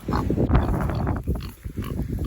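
Izzy the pig grunts and snorts close up, a run of loud, rough, rapid oinks with short breaks, alone and without talking.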